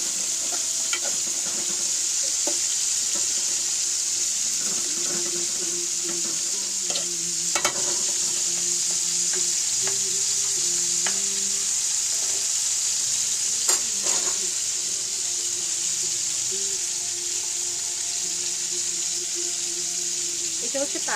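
Fish fries in a pan with a steady, close sizzle throughout, broken by occasional clinks and stirring sounds, while a voice speaks faintly in the background.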